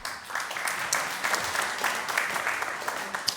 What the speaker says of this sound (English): when I got here, I came up and stood at the front and they all started applauding